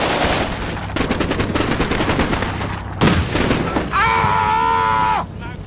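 Combat Mission Black Sea battle audio, with rapid machine-gun fire in dense rattling bursts, a sharp blast near the three-second mark, and then a shrill whistling tone, all loud and close.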